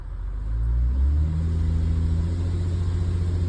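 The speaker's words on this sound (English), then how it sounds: "I'm actually going to power brake it and give it another 10 or 15 seconds in the gears." A 2016 Ford Explorer's 3.5 engine revs up and holds a strained, steady drone while power braking in gear, loud and close with no talk.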